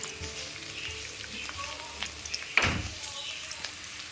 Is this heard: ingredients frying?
yes